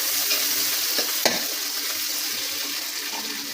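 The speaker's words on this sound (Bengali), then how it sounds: "আমি পেঁয়াজ আর পেঁয়াজ কুচি রসুন কুচি দিয়ে দিলাম। দিয়ে আমি একটু নাড়াচাড়া করে দিলাম।" Chopped onion and garlic fry loudly in hot oil, a dense continuous sizzle with a couple of brief spoon knocks as they are stirred.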